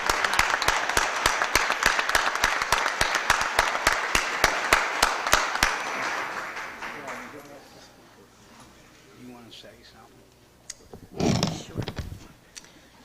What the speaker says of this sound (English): Let's give her a big round of applause and congratulations on the job well done.